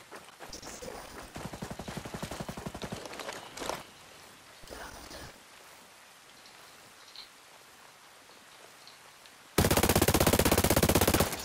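Automatic gunfire rattles out in rapid bursts during a PvP match of the video game Ghost Recon Breakpoint, with quieter gaps between the volleys and a final loud, dense burst.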